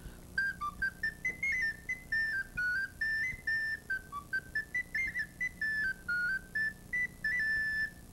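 A recorder plays a simple, bouncy melody of short, detached notes in a steady rhythm, fairly quiet and alone.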